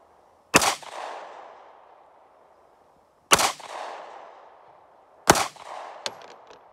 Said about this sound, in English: That's a much harder gun to shoot.